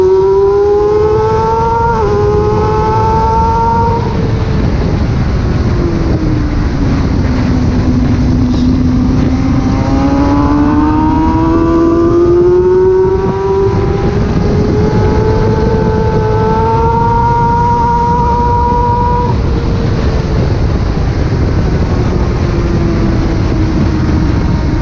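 A race car at Brands Hatch GP, loud and close from onboard, its engine screaming as it climbs through revs, dips for shifts and braking, then builds again during an overtake, steady and unbroken with no talking.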